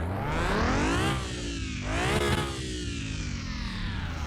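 A salvage car's engine runs roughly and revs up and down repeatedly, with rising and falling pitch sweeps over a steady idle, close and fairly loud with no talking.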